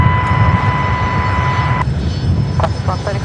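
A Qantas airliner takes off from runway 19 left at Brisbane Airport at night, its engines giving a loud, continuous broadband roar throughout, while a voice talks briefly over it.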